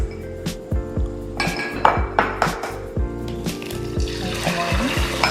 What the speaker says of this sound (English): I'm going to crack 2 eggs